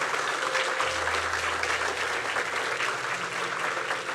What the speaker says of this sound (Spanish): Dale un aplauso al Señor con gusto.